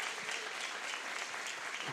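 A church congregation applauds together, a dense, steady wash of clapping that holds at an even level for the whole stretch with no voices rising above it.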